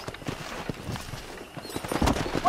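Horse hooves clip-clopping in the Red Dead Redemption video game, a quick series of soft hoof strikes on the ground over a few seconds, with a faint whinny near the end.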